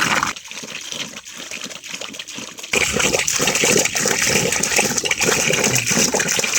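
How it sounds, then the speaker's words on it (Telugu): Water flows suddenly near a hillside temple, first a quieter trickle with faint drips, then a louder steady gushing rush that continues close by. "సడన్గా అయితే వాటర్ వస్తుంది."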